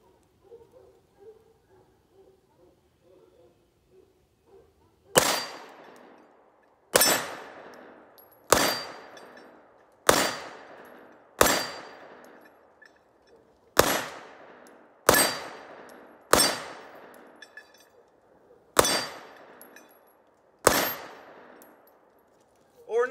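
Ten pistol shots ring out on steel target plates at a range, each a loud sharp crack followed by a bright metallic clang and a decaying ring, spaced about a second or two apart, after a few seconds of quiet.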